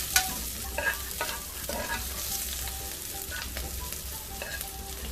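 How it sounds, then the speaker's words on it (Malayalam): Food sautéing in hot coconut oil for a Kerala beef varattiyath, with a continuous close sizzle and intermittent scraping and stirring strokes in the pan. "ഒന്നങ്ങോട്ട് വഴറ്റി കൊടുക്കും."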